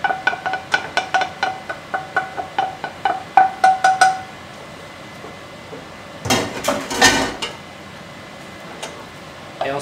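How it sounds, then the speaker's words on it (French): Utensil clinks and scrapes against a pan as drained pasta is stirred through carbonara sauce, a quick run of sharp rhythmic taps for about four seconds, then a louder burst of scraping and rattling before the kitchen goes quiet. "je remue toute la pasta avec la sauce"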